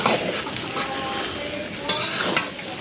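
Khichuri made with red rice cooks in a pot and is stirred with a spoon, giving a scraping, sizzling stir with a few metal clinks near the end, close and fairly loud.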